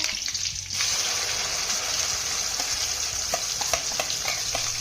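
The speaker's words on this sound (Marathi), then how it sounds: "याला छान असं मिक्स करून घ्यायचं आहे" Ground spice paste with cumin and curry leaves frying in oil in a kadai for a spinach dish, a steady close sizzle with light scraping stirs throughout, no talking.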